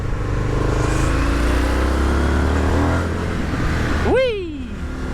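Indian Motorcycle FTR 1200 engine ridden on a twisting road, a loud steady drone under continuous wind roar, ending in a sharp rising then falling rev sweep near the close.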